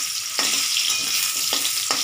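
Panch phoron spices frying in hot oil for rohu fish curry give a loud, even sizzle with a few sharper crackles, close up and alone.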